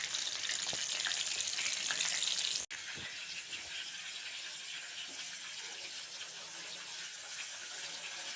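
Crab pieces frying in oil in a pan on medium heat, a steady sizzle and hiss with a few faint pops and clinks, no talking.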